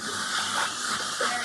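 Water splashed into a hot pan during vegan meal prep, giving a steady broad steam hiss that holds at even loudness throughout, with slight surges and no talk.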